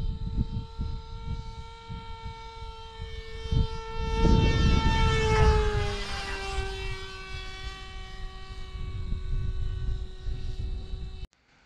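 An AtomRC Dolphin RC plane on a speed run at 50% throttle, its electric motor a steady high whine that swells and shifts pitch as it passes close by around the middle, then fades away before cutting off abruptly.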